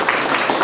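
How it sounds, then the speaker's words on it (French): Applause from an audience at a local commemorative ceremony honouring Bruno: a brief, dense wash of clapping, steady and fairly loud throughout. "Donc je voudrais qu'on applaudisse Bruno."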